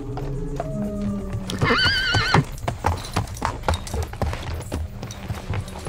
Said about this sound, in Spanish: Hasta él llegaba el angustioso ruido de las ruedas del carruaje.